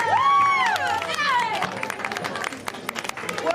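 A crowd of people cheers as a newly married couple arrives, with excited voices rising together and then giving way to scattered clapping and lively chatter.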